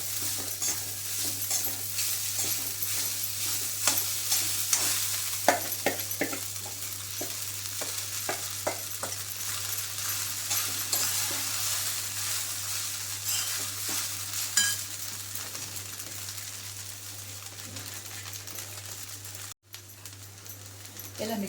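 Sabudana khichdi with peanuts being stirred in a hot pan: a steady sizzle of frying under repeated scraping and clinking of a spoon against the pan, with a person talking throughout.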